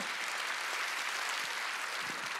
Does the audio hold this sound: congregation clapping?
yes